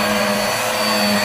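A Black + Decker upright vacuum cleaner runs steadily and loudly close by, a continuous motor whine with a hum and no breaks, while the room smells of a burnt belt.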